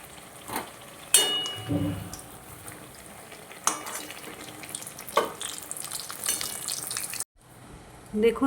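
Pointed gourd fries in a pan of oil with a continuous soft sizzle, punctuated by sharp clinks and scrapes of a spatula against the pan.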